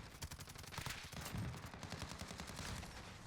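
Sustained rapid M91 light machine gun fire in Call of Duty Modern Warfare, dense overlapping bursts of shots with a quiet, distant overall level and no talk.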